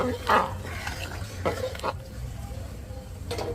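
Khichuri being stirred in a cooking pot, a spoon scraping through the thick rice and lentil mix in a few soft, separate strokes against a low kitchen hum.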